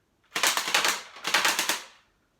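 Two bursts of rapid full-auto fire from a Saigo Defence AK-47 airsoft gun, each roughly half a second to a second long, crisp and close, with a short pause between them.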